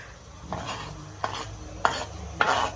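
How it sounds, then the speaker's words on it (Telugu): Tomatoes go into a frying curry of unlaid chicken eggs with meat, giving a soft sizzle with four distinct clinks and scrapes of stirring spaced about half a second apart, fairly close and with no talk. "ఇప్పుడైతే మనం టమాటాలు వేసేసుకుందాం"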